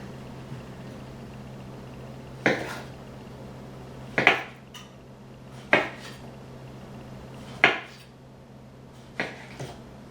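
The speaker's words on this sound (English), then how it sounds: "So we're just gonna chop this bad boy up" A sharp knife chopping a small tomato on a board, five distinct hard thwacks spaced a second or two apart, close and clear over a faint steady background hum.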